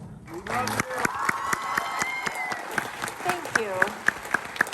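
A crowd applauds at a Clone Wars 15th anniversary convention panel at Florida Supercon. Dense clapping fills the room while a nearby voice speaks briefly over it, with a few sharp claps standing out toward the end.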